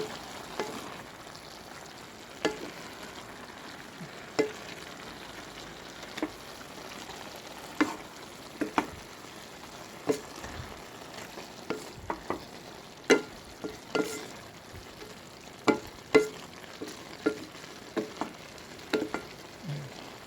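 Pansit noodles sizzle with oyster sauce in a pan, stir-fried under a quiet, steady frying hiss. Scattered scrapes and taps from the utensil punctuate the cooking, with no talking.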